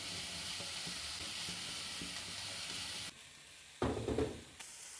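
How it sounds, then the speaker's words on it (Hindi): Spices are stirred into a vegetable spring roll filling in a hot pan. The steady sizzle and hiss fades briefly, then returns with a louder burst of scraping and frying. "अब ये सारे स्पाइसेस हम ऐड करेंगे, मिक्स करेंगे।"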